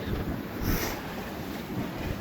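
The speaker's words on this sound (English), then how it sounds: "A big splash. The wave smacked into us and came over the boat." A wave crashes against and over a boat with a rushing splash of water, buffeted by wind noise on the microphone throughout.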